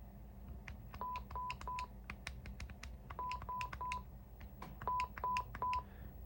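Quiet test tones from a CRT television's speaker, heard as a series of short beeps in groups of three, each group preceded by scattered clicks, over a low background hum.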